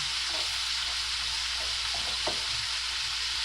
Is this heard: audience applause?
no